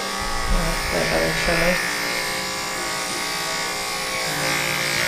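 Electric clippers buzz steadily while shaving a sedated rabbit's fur at an emergency animal clinic, a constant close hum running throughout with brief voices murmuring near the start.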